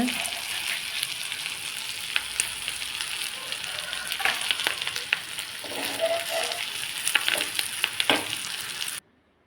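Mint leaves with coconut sautéing in a pan for mint chutney: a steady, close, even sizzle with soft crackles and occasional stirring scrapes, continuing until it stops abruptly.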